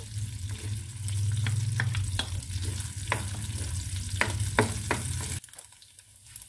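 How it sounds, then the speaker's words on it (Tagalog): Garlic sautés in hot oil with a continuous close sizzle, punctuated by sharp spatula taps and scrapes against the pan, then the frying drops quieter near the end. "Umpisa ng paggigisa. Lagay na natin ang bawang."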